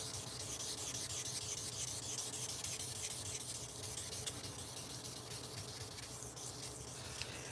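A knife blade is rubbed by hand with 800 grit sandpaper in a forge, giving a faint, steady scratching that carries on without a break.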